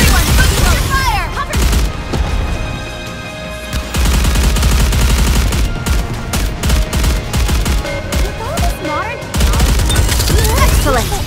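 Heavy gunfire in the mobile game Goddess of Victory: Nikke, sustained volleys of automatic fire with brief pauses, loud and close, mixed with game effects throughout.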